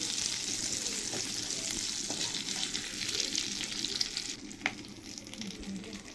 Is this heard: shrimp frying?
yes